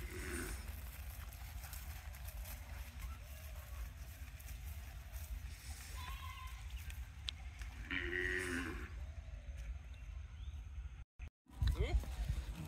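A Gir cow moos a few times at moderate distance over a farmyard backdrop, with other livestock sounds and people talking nearby throughout.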